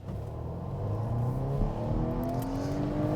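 A Volvo V60 accelerates at full throttle, its engine note climbing steadily in pitch as a loud, continuous rising drone heard from inside the car.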